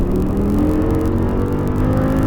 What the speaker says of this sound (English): squeeze the throttle, go